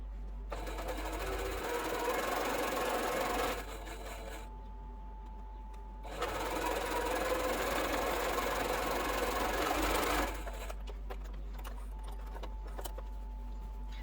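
A sewing machine stitches a quarter-inch seam on a quilt block in two long whirring runs split by a short pause, steady and close, with a constant low hum underneath.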